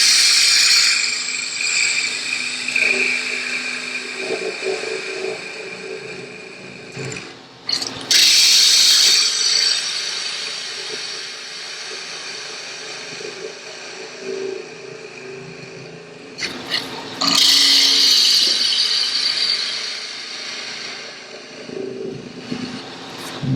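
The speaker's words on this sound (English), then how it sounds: "Go back to our 1/2-inch bowl gouge just to remove some of this material." Wood lathe spinning a lidded box while a half-inch bowl gouge removes material from the bottom, a steady loud whirring hiss of cutting with two brief pauses and bright scraping surges.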